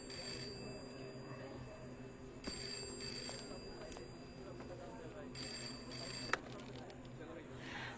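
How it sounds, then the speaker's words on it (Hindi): A mobile phone rings in an office in a Bollywood film, the electronic ringtone repeating in bursts at a moderate distance while people talk over it. "फोन बज रहा है तुम्हारा,"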